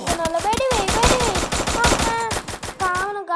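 Gunfire in the mobile game Free Fire Max comes as rapid automatic bursts, a loud string of closely spaced shots that runs for about three seconds before cutting off abruptly.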